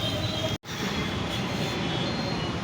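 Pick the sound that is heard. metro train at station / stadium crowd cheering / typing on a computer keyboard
metro train at station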